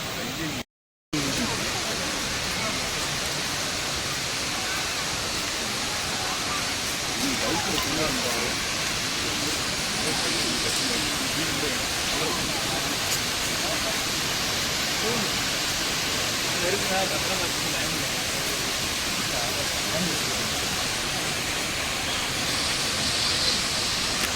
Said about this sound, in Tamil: தேன் அருவி மாதிரி இல்லை, பால் அருவி இது.